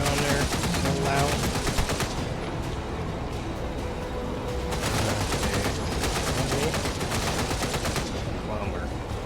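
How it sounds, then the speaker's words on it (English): Loud, continuous rapid gunfire and machine-gun bursts in a video game run on a Linux gaming rig, dense rattling volleys throughout with occasional faint talk underneath. "I don't know why they're firing on there so loud"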